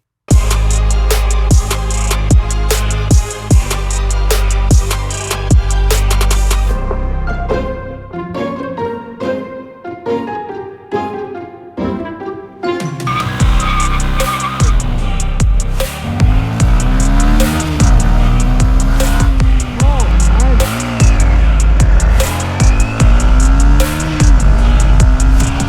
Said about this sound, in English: Frankie run along this 30-meter strip and I'll wedge my 3-digit weight onto the MT125 and see who's quicker